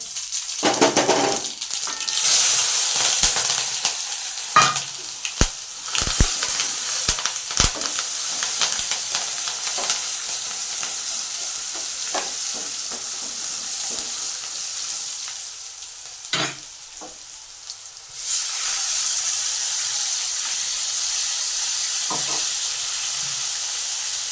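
Mustard seeds, cumin and curry leaves sizzle loudly in hot oil for a Gujarati tempering, a steady bright frying hiss broken by sharp spits and pops, dipping briefly before surging back even louder near the end.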